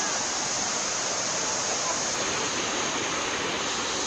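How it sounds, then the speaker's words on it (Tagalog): Waterfall at Shifen, Taiwan, a dense, continuous roar of rushing water, loud and close, filling the whole scene with broadband noise and no clear voices on top. "Ito na guys yung waterfall."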